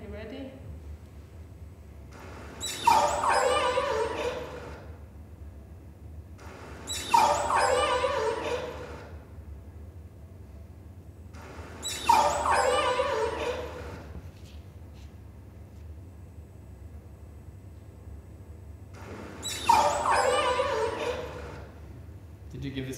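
Four recorded killer whale complex calls come through, each a burst of squeaky, whining pulses lasting about two seconds, spaced several seconds apart over a low steady hum.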